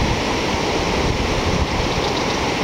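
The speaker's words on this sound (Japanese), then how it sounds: "仙台新港の波情報をお知らせいたします。" Ocean surf at Sendai Newport beach, Japan, on a morning with a light offshore northerly wind: a continuous, loud wash of breaking waves with steady rushing noise and no voices.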